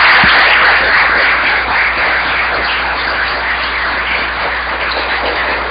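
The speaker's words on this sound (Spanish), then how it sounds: "agradezcámosle con un aplauso a Carlos Mario por su presencia aquí en el Consejo de Estado" Applause from an audience at a Council of State event, a steady dense wash of clapping held at an even level throughout, with no talking over it.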